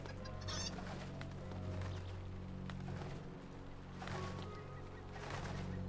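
Chickens clucking in the online game The Lord of the Rings Online (LOTRO), during a player chicken-run event in Evendim; faint, scattered clucks over a low steady background hum, with no talk.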